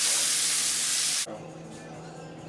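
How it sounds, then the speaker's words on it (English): Pig skin frying in a pan for cassoulet beans, a loud steady sizzle up close that cuts off abruptly halfway, leaving a faint quieter hiss. "I'm going to cook that until it's well caramelized, nice and brown, and set it aside."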